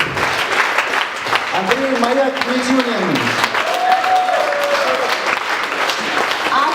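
Concert audience applauding at a creative evening event, with continuous clapping that runs throughout while a man announces a name over it and a sung or sustained vocal tone rises and falls beneath.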